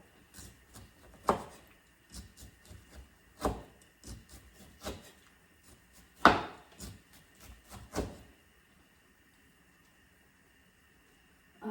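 A knife chops pork belly into small slices on a board. A series of irregular knocks and taps comes close up over about eight seconds, then stops.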